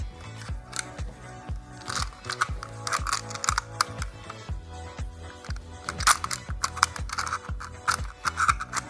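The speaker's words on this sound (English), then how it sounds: "So use your hand to turn the wheel and force the rounds in there." Shotgun shells being loaded into a 20-round drum magazine for a 12-gauge semi-automatic hunting shotgun, the wheel turned by hand: a steady run of close, sharp ratcheting clicks and gear clatter, alone and fairly loud.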